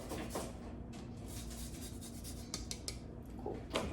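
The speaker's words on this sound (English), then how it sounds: "Get our lime zested" Lime zested over hot tortilla chips just out of the oven, quiet repeated rasping scrapes of the grater with small clicks, close and faint, with no talk.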